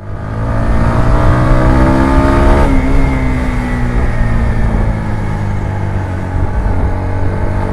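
Engine of a TVS Apache 160 4V motorcycle being ridden, a steady loud drone with clear harmonic lines that shift as the revs change and settle around the third second, running continuously with no talk.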